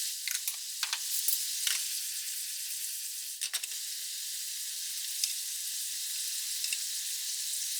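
Minced pork simmering in soy sauce and sugar in a pan gives a steady close sizzle and bubbling, with a few brief stirring scrapes and clicks at intervals.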